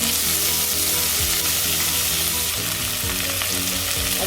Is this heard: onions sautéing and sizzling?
yes